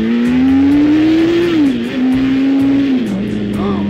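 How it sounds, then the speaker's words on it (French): Motorcycle engine accelerating hard toward 140, a loud rising whine that climbs, dips briefly at a shift, then holds high and steady up close. "J'accélère, ma moto atteint les 140 sans problème"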